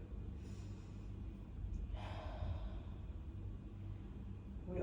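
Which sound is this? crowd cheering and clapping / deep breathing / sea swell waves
deep breathing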